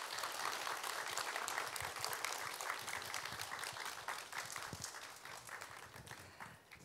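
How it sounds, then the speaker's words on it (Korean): A crowd at a talk concert with male cancer survivors gives sustained applause. The clapping is steady and fairly distant, goes on for about seven seconds and tapers slightly at the end. "여러분 큰 박수 부탁드릴게요"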